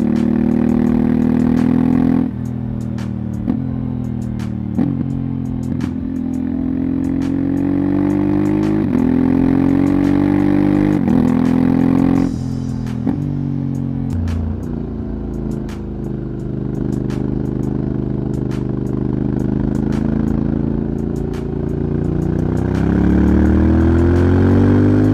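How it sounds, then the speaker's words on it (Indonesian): A Honda ADV automatic scooter with a liquid-cooled 4-stroke, 8-valve SOHC parallel-twin engine runs loud and close. It idles steadily and rises and falls through several revs. "Mesinnya kurang lebih sama kayak Africa Twin, suaranya pun mirip seperti ini."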